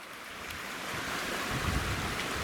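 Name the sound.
creek water flowing at trail crossing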